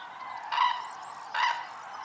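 Cranes call at dawn over Iberian oak meadowland, two loud honking calls a short pause apart with no other sound.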